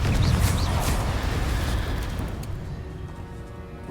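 A fiery spell blast rumbles in Hogwarts Legacy, a loud, dense boom that rolls on for several seconds and slowly fades toward the end.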